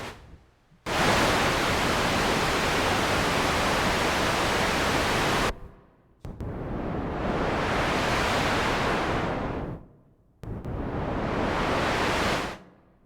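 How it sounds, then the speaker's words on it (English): Broadband hiss from the noise oscillator of an IK UNO Synth, sounding in three loud sustained bursts with abrupt starts and gaps of silence, the later two swelling and fading in tone like surf. "So right there you have our noise oscillator."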